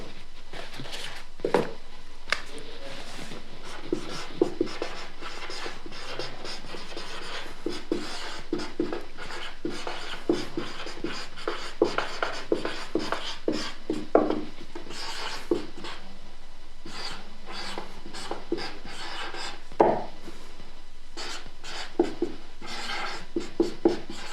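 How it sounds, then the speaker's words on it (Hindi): During a physics lesson, chalk on a board makes scratchy, tapping strokes that come and go in short bursts, then pause, for a long stretch with no speech. "मैं एंगुलर डिस्प्लेसमेंट को एक साइड में लिख देता हूं"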